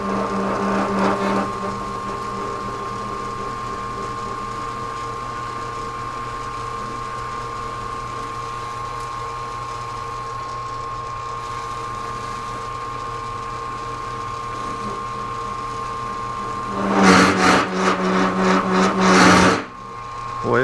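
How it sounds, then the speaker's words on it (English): A metal lathe turns steadily, cutting a bead roller die for a 1949 Plymouth toe board panel, with a sustained droning whine and tonal chatter, swelling into louder rattling bursts near the end. "we're going to slow down the lathe a little bit, see if we can get it to stop from chattering, because it chattered quite a bit there"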